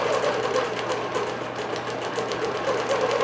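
A digital quilting machine stitches an alfresco flower pattern, its needle running in a fast, steady mechanical rhythm, close and continuous with no talking.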